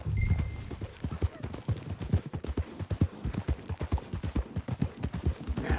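Horse hooves galloping in Red Dead Redemption 2, a fast, steady clip-clop rhythm of repeated strikes running throughout at moderate loudness.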